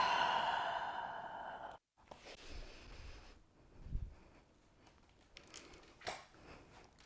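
Soft, slow exhale during a calm yoga breathing exercise, faint and close in a quiet room, followed by low breathy stillness.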